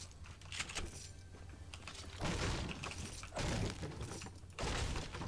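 Computer keyboard typing during a Fortnite session, with bursts of clustered key clacks and thumps over steady background game noise, no talking.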